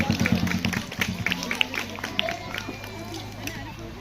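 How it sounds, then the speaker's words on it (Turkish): Crowd applause at a traditional picnic feast's speech and award ceremony, a dense patter of clapping welcoming someone onto the stage, fading gradually, with voices mixed in. "Necep Büyük'ü de alkışlarla sahneye alalım."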